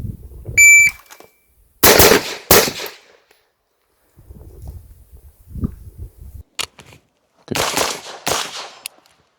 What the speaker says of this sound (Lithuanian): situacija su karabinu. Vėl ginklas užtaisytas, ne mažiau 3 šūviai